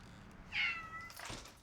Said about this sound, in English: Meow, meow, kitty.